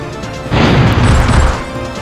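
A deep, booming explosion from the Dart cannon attack in The Legend of Dragoon video game erupts after a brief quiet lead-in, loud and rumbling for about a second before fading, with no talking over it.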